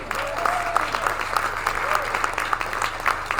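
A theater audience applauding the Pamela Mallory Trio at a live Christmas show, a loud, sustained crowd of clapping hands with a faint tonal whine and some voices mixed in.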